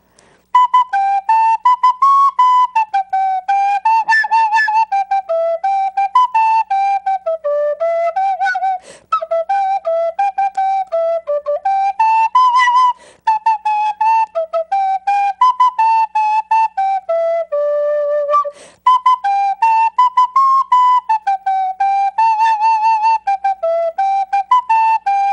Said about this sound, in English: It is a conical kind of penny whistle